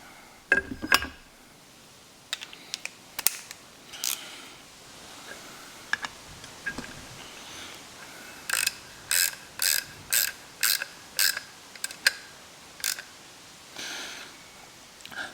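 Rapid ratchet clicks from tightening a 3/8 Allen head screw onto a PCV catch can baffle plate on a Focus ST, scattered clicks at first, then regular bursts of close, crisp ratcheting in the second half.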